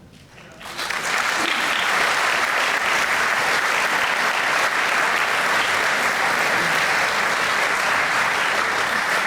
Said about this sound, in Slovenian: Z aplavzom ste nagradili njihov nastop